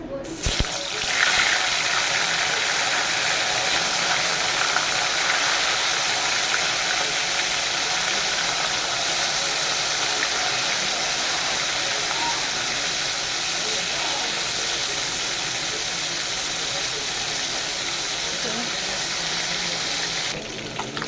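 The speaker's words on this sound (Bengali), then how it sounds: "তেলটা গরম হয়ে গেছে আমি মাছগুলো ভেজে নেবো হালকা করে করে" Snakehead fish pieces fry in hot oil in a wok, giving a loud, continuous, hissing sizzle that holds steady for the whole stretch.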